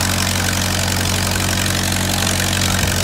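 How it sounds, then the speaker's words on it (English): The engine of the Flyers ride at Knoebels amusement park, likened to an old tractor motor, drones steadily at idle in a loud, close, constant chugging rumble with no pauses, heard alone. "runs on like an old school tractor motor"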